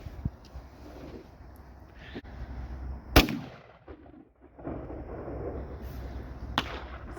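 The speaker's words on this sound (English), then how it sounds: "First shot of the 257 Weatherby." A single rifle shot from a .257 Weatherby fired outdoors, one loud sharp crack followed by a brief rolling echo, set against steady background wind or ambient noise.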